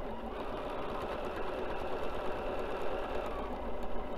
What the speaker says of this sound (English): I like to go ahead and stitch right into the stitching that I've already put down